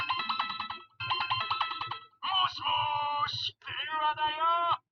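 Kamen Rider Revice DX Gunphone 50 toy gives off electronic button sound effects: two short ringing bursts followed by two longer warbling, sliding tones, loud and close with no talk.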